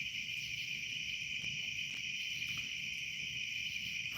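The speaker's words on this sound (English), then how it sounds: "Haven't seen a cricket in 3 years, or hear one in Dallas." Crickets trill in a steady, continuous high chirping outdoors near a smoky fire, with a low background rumble beneath.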